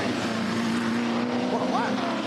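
Touring Car Masters race cars at Townsville, including a 5-litre Torana and 4.5-litre straight-six Valiant, roar through a turn with loud sustained engine drone and a brief rising pitch, under a commentator's voice.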